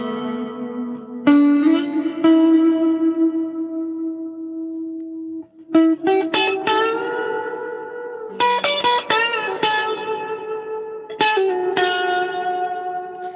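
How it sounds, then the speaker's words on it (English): Sustained electric instrument notes through a Boss RC-600 looper's reverb effect with the high cut engaged, a held tone followed by a run of plucked notes with a washy, ringing tail, loud and close, no talk. "So, not a very good reverb here."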